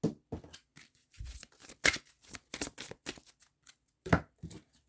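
A deck of oracle cards is shuffled by hand, giving irregular bursts of papery riffling and slapping, close and crisp with short gaps between.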